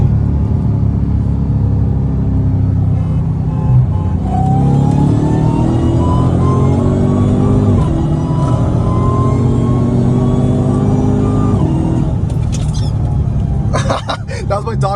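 Dodge Challenger Hellcat Redeye and a tuned 670 hp Mercedes C63s accelerating hard on a highway: a loud, continuous engine roar that climbs in pitch through the pull, steady wind rumble beneath, with voices talking inside the car.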